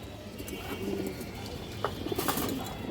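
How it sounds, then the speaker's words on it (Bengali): Stone-eyed kajla pigeons give soft, low coos against a faint, busy background with a few light clicks and rustles. "কাজলা গিয়ারের পাথর চোখের কবুতর"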